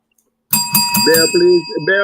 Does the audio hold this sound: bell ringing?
yes